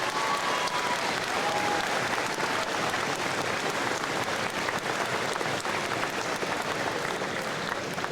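Sustained, dense applause from a large audience at a high school Veterans Day ceremony honoring veterans, steady and loud throughout with no pauses.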